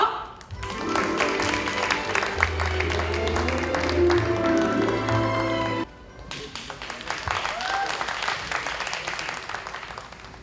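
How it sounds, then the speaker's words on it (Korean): A theatre audience at a drama competition applauds loudly and steadily for about five seconds, then the clapping cuts off abruptly and a few lighter claps and room noise follow. "여러분 따뜻한 박수 부탁드릴게요"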